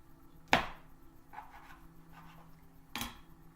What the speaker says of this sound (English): Use my rocking action with my larger knife.